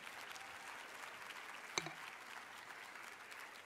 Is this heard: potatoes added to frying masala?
no